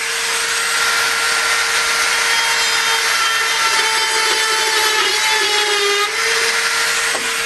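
A Dremel rotary tool cuts lines into a panel for a homemade arcade game controller, giving a steady, loud, high-pitched grinding whine that runs without a break from start to end.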